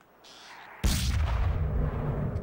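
A single loud, booming gunshot rings out in the PS2 western video game Red Dead Revolver, with a heavy low rumble that lingers and slowly decays after the blast.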